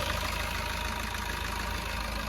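A 2017 Ertiga VDI diesel engine idles steadily, a continuous low rumble with a constant mechanical hum and no other sounds.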